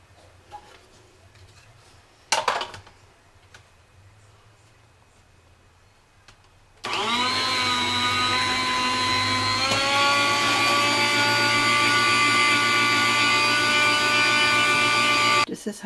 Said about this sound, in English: I got one of those slicing machines that makes slicing so much easier